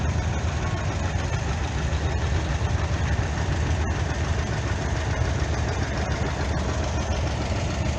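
A two-cylinder tractor engine, one with an aftermarket electric-start conversion, runs steadily in a threshing bee parade, a close, loud, continuous low chugging with no talk over it.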